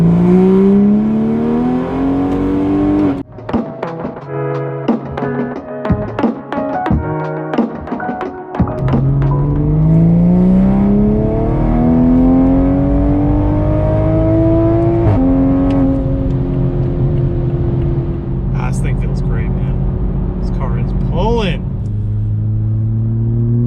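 A tuned B58 Toyota Supra accelerates in fourth gear, its engine note rising steadily from inside the car, loud and droning, with gear-change dips and whooshing turbo sounds near the end.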